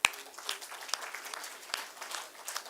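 A conference audience breaks into applause, a close burst of many scattered hand claps that continues steadily through the moment.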